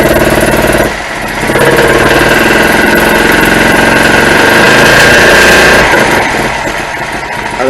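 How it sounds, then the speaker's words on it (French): A small engine of a vintage Citroën M35 prototype car runs steadily up close, a rough mechanical chatter that rises briefly in revs midway before settling back to idle. "je mets le contact, j'appuie sur le démarreur, voilà, et le moteur tourne."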